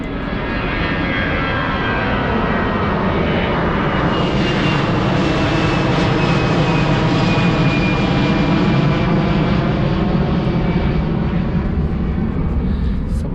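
An airplane passes overhead during an outdoor walk, a loud, sustained engine roar that swells and holds steady for several seconds, with no one talking.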